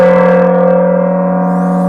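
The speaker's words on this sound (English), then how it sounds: "all kind of bell-like, but not like the other bell-type gongs we've heard." A rare gong with a bell-like tone is struck once, giving a loud, steady ringing drone with strong sustained tones that slowly fades, heard alone.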